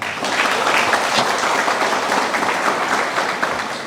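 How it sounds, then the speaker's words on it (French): Sustained dense applause from a crowd at a graduation ceremony for a children's tech school class, loud and steady throughout without a break. "ça a demandé plus d'applaudissements."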